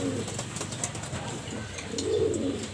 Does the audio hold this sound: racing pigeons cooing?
yes